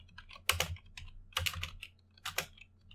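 Quick bursts of keystrokes on a computer keyboard, typed in three short clustered runs with brief pauses between, close and clear with no talking.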